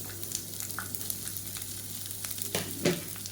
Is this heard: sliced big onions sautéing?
yes